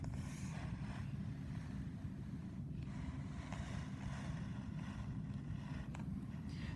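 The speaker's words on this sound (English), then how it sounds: "The north wind blows." A cold north wind blowing across a farm in November, a steady low rumbling roar with constant buffeting against the microphone, unbroken and fairly even throughout with faint higher rustling on top.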